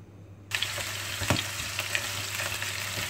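Ground beef frying in oil in a pan, a loud dense crackling sizzle bursting in abruptly and holding steady, with a few spoon scrapes and no voices.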